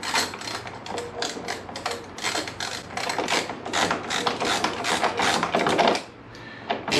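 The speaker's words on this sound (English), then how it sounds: "This bolt here doesn't seem to want to come out." A rapid power tool rattling against a stuck bolt on a crash-damaged bodywork panel of a 1998 Kawasaki ZX9R motorcycle, a fast buzzing ratchet-like chatter in short repeated bursts, steady and close, cutting out near the end.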